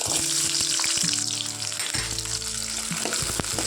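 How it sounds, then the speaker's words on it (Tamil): Small shallots fry in hot oil in a kadai for a ridge gourd curry, giving a steady, loud sizzle with a few crackling pops and clanks of a utensil, no voices. "சின்ன வெங்காயம் நல்லா வணங்கட்டும்"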